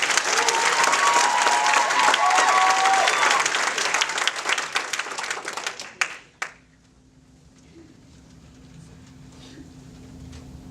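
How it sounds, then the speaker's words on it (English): Theater audience applauds performers at a winter class show before a comedy scene, dense steady clapping for about six seconds that cuts off sharply, leaving near silence. "please give them a big round of applause"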